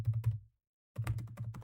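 Keys clatter on a computer keyboard in quick bursts of taps, a short pause of silence, then another run of typing, close and fairly quiet with no talking.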